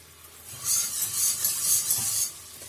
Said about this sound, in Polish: Wszystko zaczyna bąbelkować i kiedy to mieszamy, mamy wrażenie, że mieszamy tylko i wyłącznie taką lekką piankę cukrową